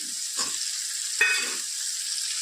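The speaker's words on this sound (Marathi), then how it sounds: "टोमॅटो आणि वाटाणा परतून घ्यायची छान" Tomatoes and green peas being sautéed in a pan for a paneer and peas curry: a steady bright sizzle throughout, with two short bursts of spoon scraping, close and moderately loud, no talk.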